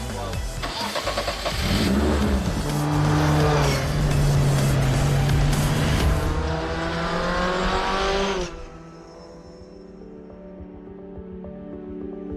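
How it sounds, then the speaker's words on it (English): A race car engine starts up and revs loudly and close, building through several rising and falling revs before dropping to a quieter idle-like rumble. "you hear the engine start up, the revs build up"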